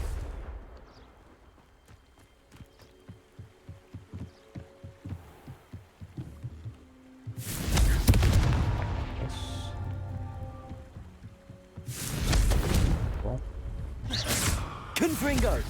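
A Confringo fire spell in the video game Hogwarts Legacy: loud, bursting explosive blasts around the middle and near the end, following a steady pulsing thump, with speech present.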